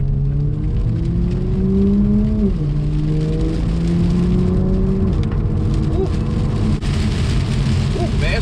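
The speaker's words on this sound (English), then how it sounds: "Driving the Supra in the rain, got the new suspension in." Toyota Supra with new suspension driving in heavy rain, a loud steady engine hum with gear-change pitch shifts under constant rain noise on the car, close and continuous.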